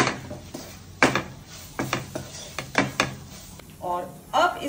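A spoon scrapes and knocks against a bowl or pan while tandoori chicken masala is stirred into a paneer roll filling, giving a handful of close clinks and rubbing strokes, with a voice nearby.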